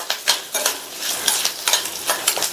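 Peanuts and curry leaves are stirred in a hot pan while roasting, a utensil scraping in quick uneven strokes, with short bursts of rattling and scratching over a faint sizzle.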